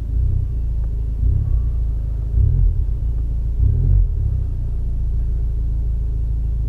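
Mini Cooper engine in E+ eco mode giving a low, muffled rumble that swells a few times as the accelerator is pressed, responding only sluggishly, heard close and steady with no talk.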